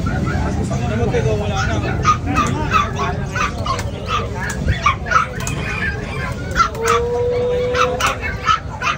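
Dogs bark repeatedly at a busy market day in Bocaue, sharp yelps scattered through the crowd noise, with chickens and other animals nearby and people talking throughout.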